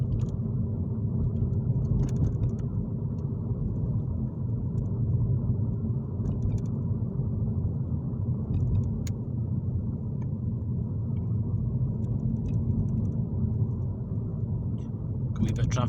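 A Mini in Volcanic Orange drives along a road with light traffic, giving a steady, close low rumble of engine and road noise that stays even throughout, with a few faint clicks on top.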